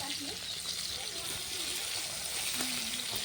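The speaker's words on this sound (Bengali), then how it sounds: "দেখো আমি মাছ ভাজা চাপিয়ে দিলাম তোমাদের কাছে" Fish sizzles steadily in a pan, a dense continuous crackle and spatter close by that never lets up.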